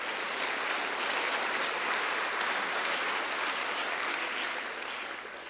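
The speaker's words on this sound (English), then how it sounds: "you're not going to give them a round of applause?" A conference keynote crowd at BruCON claps in a dense, even wash of applause that holds steady and tapers slightly at the end.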